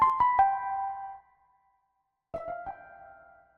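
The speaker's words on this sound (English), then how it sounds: "Cool little slappy kind of plate." Short electric guitar phrases played through a pedal's slappy plate reverb, two quick bursts of plucked notes with brief bright tails separated by a silent gap.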